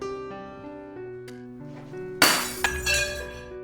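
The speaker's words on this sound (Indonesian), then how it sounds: "Ellie berusaha menarik perhatian Agnes dengan memecahkan kaca di rumah" Inside a house, glass is struck and shatters with a sharp crash, followed by a second smaller breaking hit and tinkling shards, set against a sustained musical drone.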